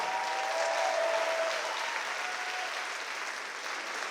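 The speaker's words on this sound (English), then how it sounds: "one more round of applause for this harmonium" A festival audience gives a steady, continuous round of applause after a harmonium performance. The dense, even clapping holds at a constant level throughout, with no talk over it.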